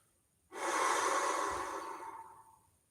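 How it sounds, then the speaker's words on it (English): A single long exhale during a guided meditation, a soft breathy rush that starts abruptly, holds steady, then tapers away over about two seconds, close and alone. "And we're breathing out"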